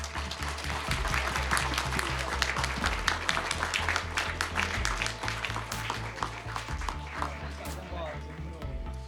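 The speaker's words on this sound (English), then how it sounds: "An applause for everybody." Applause from the audience at a closing evening event, a steady busy patter of many hands lasting several seconds, with a thumping low beat and some voices running beneath it.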